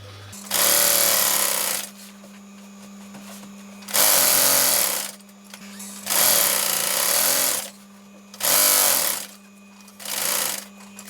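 Sewing machine stitching a horseshoe zip into the base of a fabric cushion cover, running in five loud bursts of steady whirring separated by short pauses as the fabric is repositioned, close up with no talk.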